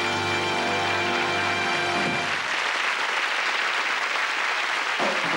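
A studio audience at a 1985 magic show applauds after a routine. Sustained music tones die away as a loud, even roar of many hands clapping takes over and holds steady to the end.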